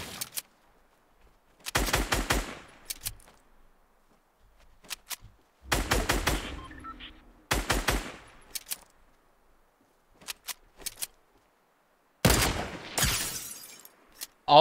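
Gunfire in the battle royale game Fortnite comes in several loud, sharp rapid bursts separated by near silence, with some single shots between the volleys.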